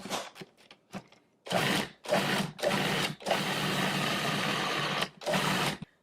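A food processor pulses avocados with the lid on, firing in several separate bursts of motor whirring, with one long sustained run in the middle, loud and close.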